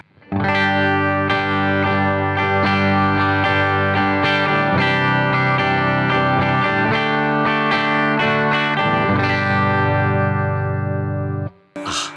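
A loud, overdriven electric guitar through a Blackstar St James tube amp at 50 watts, strummed chords ringing out with sustain, then a sudden cut near the end.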